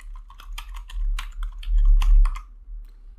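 Quick bursts of keystrokes on a computer keyboard, typed at an uneven pace with brief pauses, close and clear with no voices.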